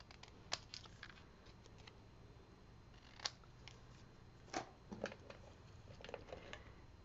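Scissors snipping to trim a simple one-ink greeting card, a handful of short crisp cuts scattered across a quiet room, close and soft with no talk.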